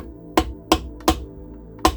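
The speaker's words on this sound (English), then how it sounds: "you use a wooden handled hammer and just give it a gentle tap." Four sharp, distinct taps at uneven intervals, each a crisp, gentle knock of a wood-handled hammer on metal during a Reliant Regal Supervan engine cylinder head rebuild, with quiet pauses between.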